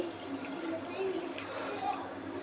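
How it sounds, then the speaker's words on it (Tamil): Water splashes and gurgles steadily into a cooking pot nearby, a continuous pour under faint background noise. "தேவையான அளவு தண்ணி ஊற்றி"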